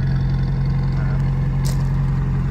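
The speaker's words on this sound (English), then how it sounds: "A nice little burble from the exhaust." A 1958 Ford Anglia 100E idling with a steady low exhaust burble, a continuous even rumble close by with no talking over it.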